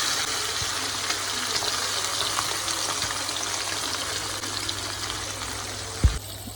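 Fish frying in hot oil in a pan gives a steady, soft hiss and sizzle, fairly quiet and even, with one brief clatter near the end.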